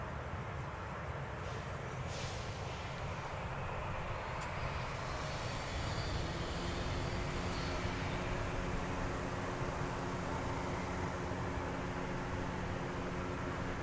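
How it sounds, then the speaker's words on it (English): An MD-11 heavy jet touching down on runway 30 left, a broad steady roar of engine and rushing air that fills the whole stretch, loud and continuous with a faint high whine over it. "2560 heavy, an MD-11 arrival from Louisville, Kentucky, about to touch down on runway 30 left"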